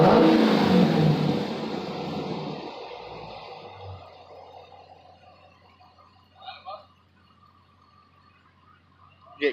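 A Dodge Challenger SRT8 with the 392 Hemi V8 and a new exhaust roars loudly at first, then settles into a low rumbling idle, with a few faint clanks and a sharp knock at the end.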